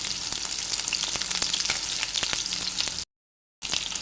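Crushed garlic and curry leaves sizzle in hot oil, with a close, steady, crackling fry and faint stirring taps. Total silence interrupts it for about half a second before the sizzle resumes.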